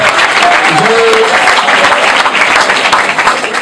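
Audience of university students at UNIKIN applauding a pledge of an added $20,000, loud close clapping that rolls on steadily for the whole stretch with a few faint voices and a brief whoop.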